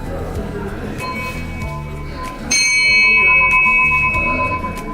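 A ship's bell in a bell-making workshop is struck once loudly midway, ringing on with a long bright decay under low background chatter and shuffling.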